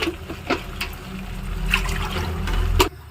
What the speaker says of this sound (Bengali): এইবার এতে আমি জল দিয়ে দেবো কারণ এতে আমি গরম জল দেবো